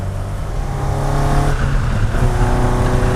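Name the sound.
Alfa Romeo GT Junior engine revving and crackling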